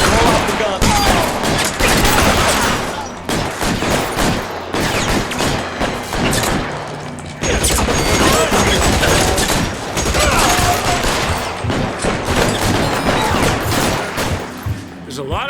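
Sustained machine gun fire rattles through the video game L.A. Noire, dense loud bursts running almost without a break, with voices shouting over it.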